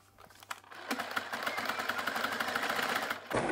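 A sewing machine zigzag-stitches elastic onto fabric with the stitch width set to 3.6, starting with a few clicks, then running in a steady, fast mechanical whir for about two and a half seconds before stopping.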